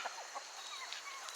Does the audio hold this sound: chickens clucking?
yes